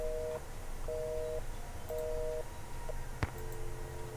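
Telephone busy signal in a Nancy Drew video game, The White Wolf of Icicle Creek: evenly spaced dual-tone beeps repeating about every half second, with a sharp click partway through before the tone resumes.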